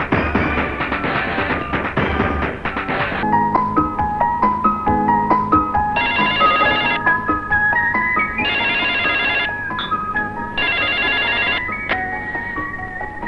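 A telephone ringing with a repeating electronic melodic ringtone, loud and close, pulsing in bursts over about thirteen seconds with no talk.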